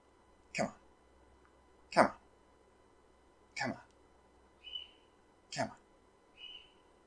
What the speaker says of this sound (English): Gotta feed that bird you can hear in the background